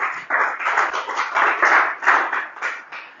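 A congregation claps at a church service to acclaim the Lord, a dense, lively burst of many hands applauding close by, continuous for about three seconds.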